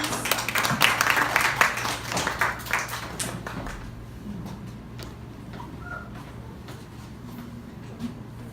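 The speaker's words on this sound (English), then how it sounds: "A round of applause, please." Audience applause at a startup talk in Cebu, a burst of clapping that is loudest in the first three seconds, then thins out and fades over a low steady hum.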